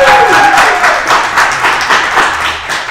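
Steady, dense clapping and applause from a studio group celebrating the new year on a live talk show, loud and continuous, with a faint tone and murmuring voices underneath.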